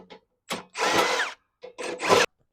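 A power tool whirs in several short, close bursts with brief gaps between them while removing T40 bolts from the stock rear fascia of a Polaris RZR Pro XP. No one speaks.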